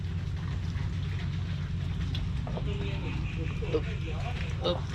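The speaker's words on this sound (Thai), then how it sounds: "ฝนมันตกทั้งวันทั้งคืนเลยพี่น้อง" Steady rain falling during a day-and-night downpour in rural Thailand, a constant close hiss and patter underneath someone talking, with a low rumbling undertone throughout.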